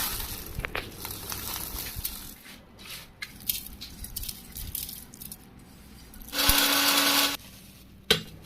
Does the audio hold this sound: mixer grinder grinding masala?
yes